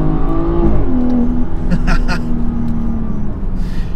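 A BMW 340i Performance wagon's engine hums loudly and steadily from inside the car, its pitch dipping and then settling as the throttle is worked.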